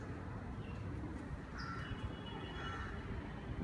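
Birds call faintly outdoors, a few short chirps rising briefly above a steady wash of ambient background noise.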